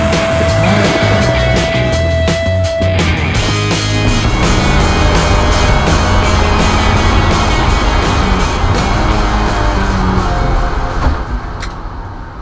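A Mazda MX-5 on Llandow Circuit during a shakedown and tyre test with the Sport 5 compound; a loud, steady engine roar continues throughout and eases off slightly right at the end.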